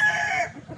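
A gamefarm rooster crows once, a bright drawn-out call heard near and fairly loud, trailing off into quiet clucking and faint background noise.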